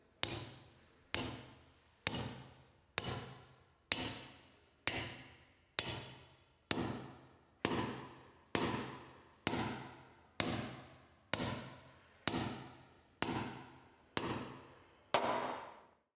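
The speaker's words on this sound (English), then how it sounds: "Strike the heavy load anchor carefully and vertically using a hammer." Sharp metallic hammer blows ring out on a steel heavy-load anchor while assembling a two-post lift, about sixteen evenly spaced strikes, each decaying quickly, with no talking.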